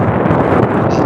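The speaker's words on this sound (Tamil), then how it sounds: "உசு உசுன்னு காத்து அடிச்சிட்டு இருக்கு." Strong wind gusts loudly across a farm field ahead of rain, a dense continuous roar buffeting the microphone with no pause.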